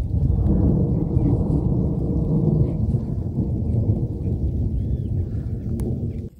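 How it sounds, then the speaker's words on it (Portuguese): Rain beginning to fall with a deep rumble of thunder, a loud low roll close and sustained that slowly fades, with rain hiss beneath it. "Meu Deus, tá chovendo já."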